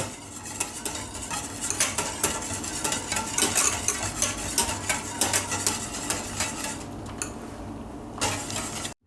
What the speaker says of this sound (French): Je les ajoute à ma garniture et je mélange.